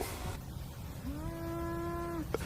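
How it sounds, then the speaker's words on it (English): Outdoors near a drone test, a cow gives one long, steady, fairly loud moo that starts about a second in and holds for over a second before cutting off, over a constant background hum. "That cow is way louder"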